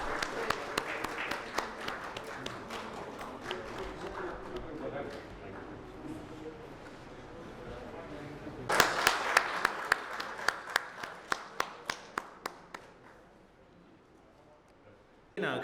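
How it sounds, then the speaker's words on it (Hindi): Audience applause at an official language festival meeting, a burst of clapping that swells in the middle, with sharp individual claps standing out and tapering off, following a speaker's announcement. "मैं चाहूँगा कि तालियों की गड़गड़ाहट के साथ इनका उत्साहवर्धन करें।"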